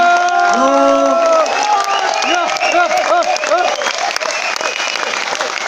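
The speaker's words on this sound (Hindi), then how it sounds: "एक बार दोनों हाथ ऊपर करके तालियां, सीटियां, एक्साइटमेंट।" Seminar audience at a business meeting in Bhilwara, Rajasthan, applauding loudly and steadily, with whistles and excited cheering rising over the clapping throughout, while voices call out in the crowd.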